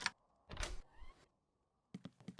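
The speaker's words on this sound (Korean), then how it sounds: "부엌까지 이동하여 잠겨있던 문을 열 수 있었습니다." A locked door opening in the horror game I Gnarled Hag, with a creaking swing, a short pause and then a few quick knocking thuds.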